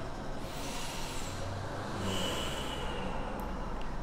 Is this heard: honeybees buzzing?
no